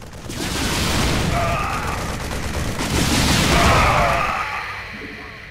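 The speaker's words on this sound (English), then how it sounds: "It fires a volley of rockets at enemy ground targets." The StarCraft II Banshee gunship fires rocket volleys at ground targets in a video game, producing two loud, rolling bursts of rapid explosive blasts and rumble, with brief mechanical tones between them.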